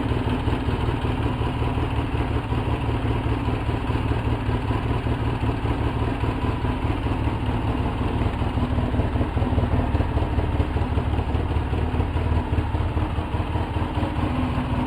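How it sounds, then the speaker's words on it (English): A 2004 Polaris Sportsman 700 ATV engine with a carburetor boot problem idles roughly, a loud, continuous close-up clattering rumble that holds steady throughout with no voices. "I'm just going to let her sit here and idle at this"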